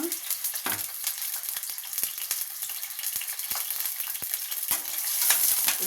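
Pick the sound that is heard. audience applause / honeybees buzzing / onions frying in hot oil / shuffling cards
onions frying in hot oil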